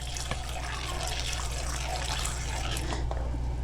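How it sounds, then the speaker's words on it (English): Water pours steadily into a container with a close, continuous splashing trickle over a low background hum. "So let's add a little bit of water."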